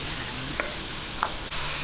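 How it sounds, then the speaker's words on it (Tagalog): Chicken browns in a pan for adobo, giving a soft, steady sizzle with a few brief scrapes and stirring clicks from the pan. "Hintayin lang po natin mag-light brown tong ating chicken"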